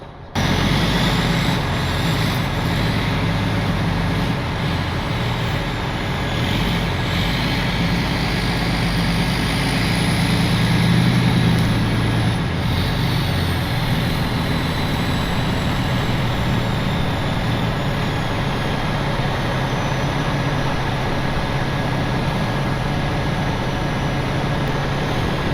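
A pickup truck idles and drives slowly across open desert ground during a trailer recovery, with a steady low engine rumble and wind that stays constant and close throughout.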